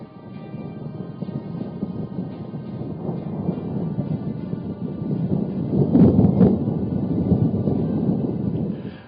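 Thunder from a storm rolls in as a low, continuous distant rumble that builds and swells louder toward the end, heard alone without any voices.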